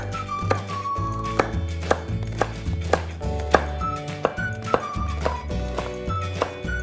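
Knife chopping dark chocolate on a board, a steady series of sharp, close thunks at a fairly even rhythm over a background of music.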